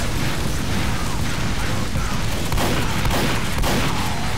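Robots in the video game Team Fortress 2 fire their weapons in continuous loud gunfire and blasts with dense overlapping bursts, and no break in the din.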